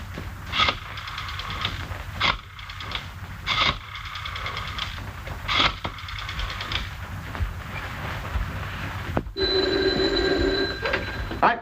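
An old-fashioned telephone bell in a vintage detective film rings in repeated bursts, loud and close, with a distinct tone sounding near the end.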